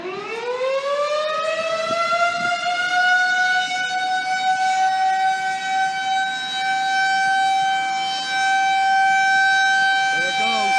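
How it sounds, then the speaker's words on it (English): A Federal Signal 2001 tornado siren during a test, winding up from a low pitch into a loud sustained wail that holds steady, while a person talks faintly underneath. "Tornado siren should be going off any second."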